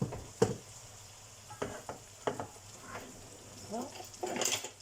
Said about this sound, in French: Les légumes ils sont en train de cuire.